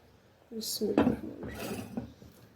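A metal lid clatters onto a pot of koila keema, a few sharp clinks and scrapes of cookware close by, with someone talking around them.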